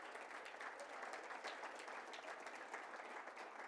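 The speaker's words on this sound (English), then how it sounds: "Let's give a nice round of applause, School of the Arts" Faint, distant applause from an audience at a Hispanic Heritage Month celebration, an even dense patter of clapping over a low steady hum.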